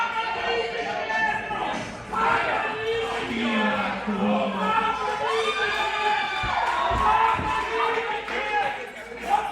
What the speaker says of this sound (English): The crowd seems to love it,